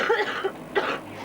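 A woman coughs a few times, short and close, in quick harsh bursts.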